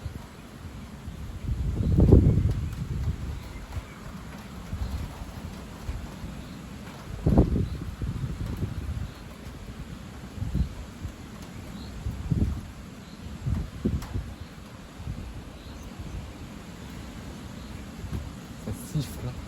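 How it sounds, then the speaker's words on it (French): Strong cold-front wind gusts blowing outdoors, a low roaring rush that surges in several distinct gusts over a constant background, with no talking. "Là par moment, ça y va le vent."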